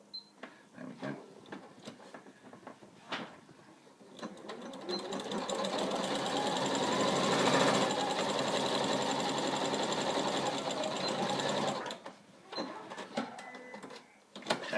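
A sewing machine runs a zigzag stitch on a scrubs bag in one sustained, close, rapid whirring burst of about six seconds, framed by quiet handling clicks and fabric rustles before and after.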